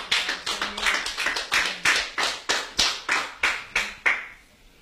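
A church congregation claps loudly and in unison, a steady rhythm of about fifteen sharp, roomy bursts that stops short near the end.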